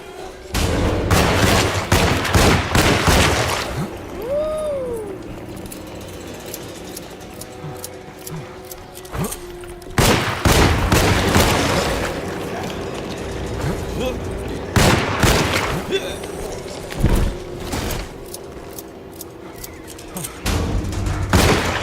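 Heavy gunfire in the video game Alone in the Dark, a run of loud blasts and rapid shots in bursts with brief lulls between volleys, a voice talking over parts of the fighting.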